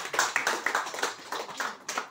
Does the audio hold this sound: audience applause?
yes